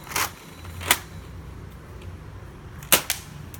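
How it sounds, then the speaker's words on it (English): Homemade explosive Nerf darts pop outdoors after dark, two sharp bangs about two seconds apart with a quick crack trailing the second, plus a softer pop before them. "those Nerf darts just exploded"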